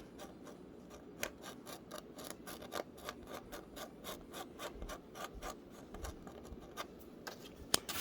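An engraving tool carves into a plaque with a steady series of gritty, rasping scrapes, repeated strokes close up and moderately loud, with no voices.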